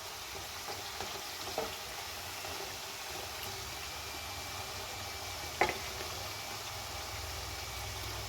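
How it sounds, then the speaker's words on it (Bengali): Nimki dough pieces deep-frying in oil while being turned, a quiet, even bubbling hiss with a few soft scrapes and one sharp clink of the utensil. "এইভাবে এগুলো আমি এবারে উল্টে পাল্টে ভালো করে নেড়ে নেড়ে ভেজে নেব।"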